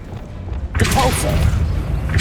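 The Depulso spell goes off in Hogwarts Legacy as a sudden booming whoosh that rings on for a moment after a quiet start.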